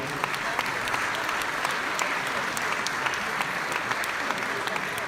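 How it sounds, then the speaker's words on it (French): An audience at a gala opening applauds steadily for their president, Serge Audin, a continuous, moderately distant wash of many hands clapping. "Je vous demande d'applaudir très très fort Serge Audin."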